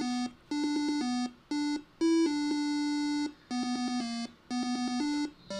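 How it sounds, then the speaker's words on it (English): Single-channel beeper music from a retro computer demo: a square-wave tune of short beeping phrases broken by brief gaps, loud and alone with no talk. "As beeper music goes, this isn't half bad."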